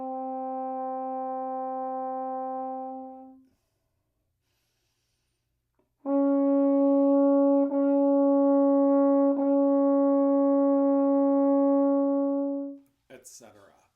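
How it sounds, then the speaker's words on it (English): Brass instrument playing the Caruso six notes exercise: steady sustained tones, a short held note, a pause, then a long held note of several seconds with slight breaks, ending in a brief noisy breath. "the standard method of doing these Caruso 6 notes looks and sounds something like this"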